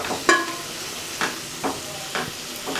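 Minced mutton keema sizzles and fries in a pan while it is stirred. A few distinct scraping strokes of the spoon come at irregular intervals over a soft, steady sizzle.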